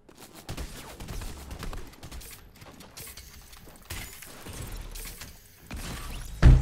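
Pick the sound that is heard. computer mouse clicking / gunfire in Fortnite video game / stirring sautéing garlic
gunfire in Fortnite video game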